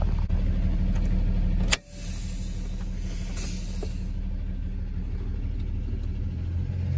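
A tractor-trailer engine rumbles steadily as the rig tries to pull forward against applied trailer parking brakes during an air brake inspection, with a brief sharp transient early on and a continuous low drone throughout.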